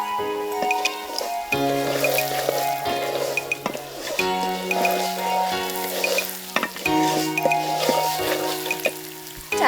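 Lentils for a traditional Chittagong pulao-style dish fry and get stirred in a pan, a steady sizzle broken by scraping strokes, with soft music-like tones running underneath throughout.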